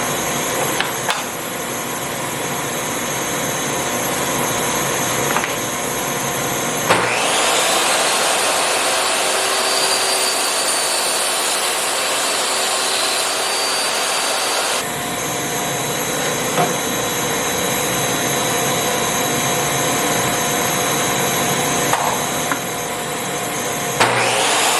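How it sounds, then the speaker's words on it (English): A miter saw cuts into the end of a wooden board for a garden raised bed. The motor whine runs loud and steady for about eight seconds mid-clip, between quieter stretches of background noise. "So what we're doing now is we're going to make a cut into the end of this board."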